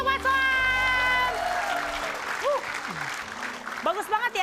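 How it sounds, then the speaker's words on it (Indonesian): A television comedy studio audience claps steadily while music plays at first, then the applause continues under a host's animated speech, dense and sustained throughout. "Sekali lagi tepuk tangan untuk Mas Soal."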